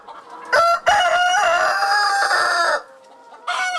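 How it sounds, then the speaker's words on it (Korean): A rooster crows loud and close at a sunny free-range poultry farm, two long strong calls with a brief gap between, followed by the start of another, with no talk over them. "햇빛이 드는 양계장에서 수탈개 힘찬 울음소리가 울려 퍼집니다."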